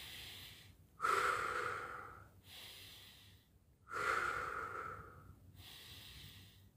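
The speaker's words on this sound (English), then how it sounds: "add the belly breathing, add the back breathing, and then add the combined belly and back breathing" Slow, deliberate qi gong belly and back breathing: two long, audible inhale-exhale cycles with airy, slightly nasal rushes of breath, close and quiet, no talking.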